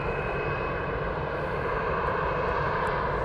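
A Ryanair airliner at Cologne Bonn Airport gives a steady, broad jet roar that holds loud and constant throughout, with no voices.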